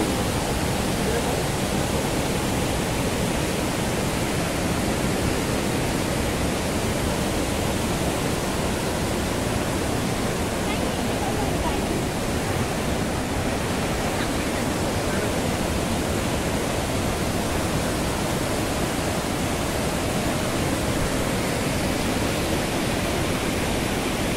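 Continuous loud roar of the waterfall beside Dhutpapeshwar temple in Rajapur, Konkan: thick, even water noise heard up close with no pauses.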